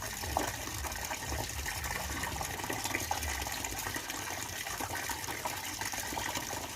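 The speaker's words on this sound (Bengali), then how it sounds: "জলটা কিন্তু ভরে যাচ্ছে দেখো" Water runs from a tap into a container at home, a steady gushing, splashing flow that fills continuously at close range with faint background clatter and no clear talk.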